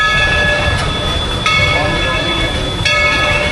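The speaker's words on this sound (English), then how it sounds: "Looks like the train's running one last time for the night" At Dollywood's Harvest Festival, an amusement park train runs nearby with a continuous low rumble under a sustained, multi-toned whistle that swells and repeats, with a faint murmur of the crowd mixed in.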